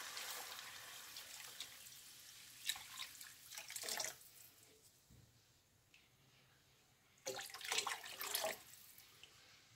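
Water is poured into a cooking pot for polenta in two separate gurgling splashes with a quiet pause between them, faint and close in a kitchen, with no talk.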